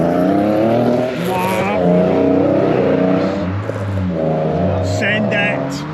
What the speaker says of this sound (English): hopefully they'll have the sense just to drive past us a couple of times